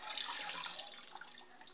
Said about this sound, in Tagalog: Tapos, hugasan niya yung chopping board wood.